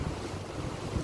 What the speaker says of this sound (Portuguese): eu encerro o vídeo mostrando pra vocês essa ventania louca que tá